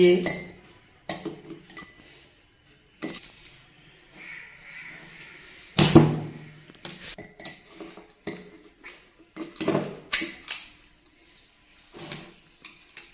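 A spoon scrapes and clinks against frozen homemade custard ice cream, made with milk, in a container. Irregular scraping bursts and clatters come close up, with speech heard between them.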